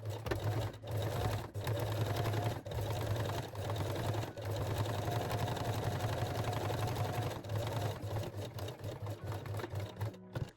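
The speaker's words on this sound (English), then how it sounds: "So now I am using the straight stitch and my stitch length is on 3 out of 4" A sewing machine runs a straight stitch along the elastic of a garter belt, a rapid, steady mechanical whir that keeps going with only brief pauses, fairly faint and free of talk.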